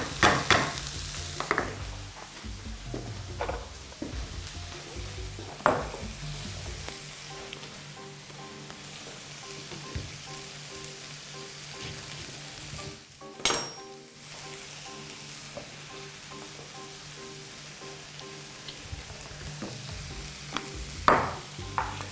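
Chicken frying in a pan gives a steady, dense sizzle that runs throughout, with occasional stirring scrapes and light clinks of utensils against the pan, close and without talk.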